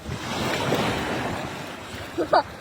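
Strong sea waves at the shore, a steady broadband rush of surf with wind buffeting the microphone, close and fairly loud, with a brief voice at the end.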